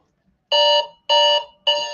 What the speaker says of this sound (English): That's not my alarm.